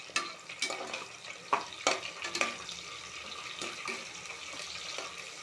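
Ginger paste frying in a pan for tomato rice gives a steady close sizzle, punctuated by a few sharp stirring scrapes and clinks from a spoon against the pan.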